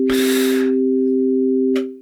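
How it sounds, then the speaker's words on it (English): A simple sine wave from an Elektron Digitone FM synthesizer holds a steady, loud, pure tone for about two seconds, opening with a short noisy burst and ending with a brief click-like flare. "you're always going to start with this simple sine wave thing because that's how FM do"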